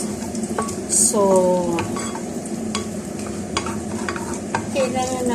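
Garlic and onion sautéing in a pan, a continuous sizzle broken by stirring scrapes and light utensil clicks, with a single brief spoken word.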